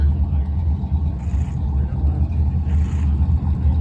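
A race car at a drag strip roars past, a loud continuous low engine rumble with steady revving, heard from nearby trackside.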